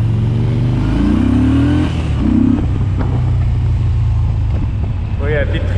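A 2020 Yamaha XSR 950 scrambler motorcycle on its stock exhaust, heard from the rider's seat as a steady engine drone with rising rev sweeps, mixed with road and wind rumble. Another bike is ahead on the road.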